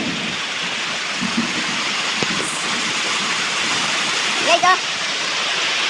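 Heavy rain roars steadily and loudly on a leaking roof, a dense continuous wash of noise, with a brief exclamation in Tagalog from a voice near the end.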